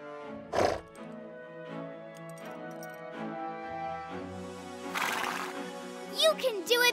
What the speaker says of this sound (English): Beauty is about to attempt the Capriole, the most beautiful leap of the dancing horses.